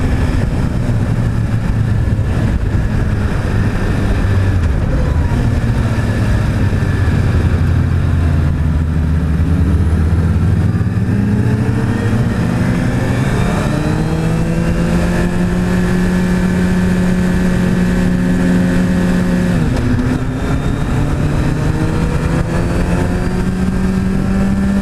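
A 2016 Suzuki Hayabusa with a 1340 cc inline-four engine rides up onto a freeway in second gear. The engine drones loud and close, its note climbing and settling through sustained pulls of acceleration.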